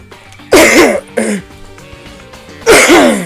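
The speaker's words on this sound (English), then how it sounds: "I keep coughing." Three separate bursts of coughing and throat clearing from one person, loud and close, with short quiet gaps between them.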